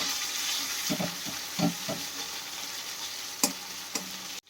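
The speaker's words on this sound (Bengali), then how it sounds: "আর দেব হলুদ বাটা আর দেব লঙ্কা বাটা দিয়ে একটু একসাথে ভাজা ভাজা করে নেব" Cumin, turmeric and chili pastes fry together in a pan for a village-style cauliflower and egg curry: a steady sizzle broken by several sharp spatula strokes and scrapes, close and fairly loud.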